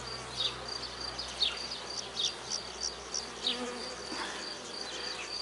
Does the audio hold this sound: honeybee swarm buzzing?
yes